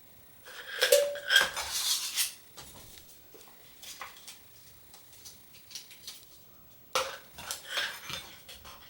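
A folded camping stove slid and packed into a 22oz metal cook pot, giving a cluster of clinks and scrapes at first, quieter rattling in the middle, then another burst of metallic clatter near the end.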